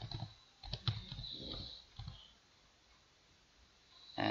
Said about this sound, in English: you go to dash and type in here terminal